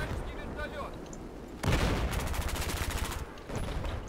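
Rapid automatic gunfire from a Battlefield 4 firefight, including a helicopter firing, bursts in loud, fast repeating volleys with heavy booming low end, broken by a brief lull and then resuming.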